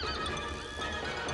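Pegasus, the winged horse from the 1981 film Clash of the Titans, gives a brief, loud neigh over a dense film soundtrack.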